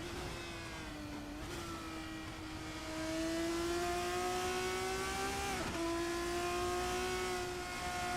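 Race cars lapping Suzuka in a sim racing video game, a sustained, tonal engine whine rising and falling through gear changes, with a brief dip around a shift, steady and moderately loud with no voices.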